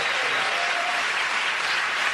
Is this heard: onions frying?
no